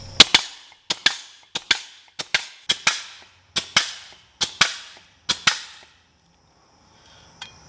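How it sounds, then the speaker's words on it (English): A grease gun pumps grease into a blade spindle on a Ferris zero-turn mower, giving a series of about twelve sharp, close clicking strokes at a steady rhythm, then one faint click after a pause. "so that took over 100 pumps of grease"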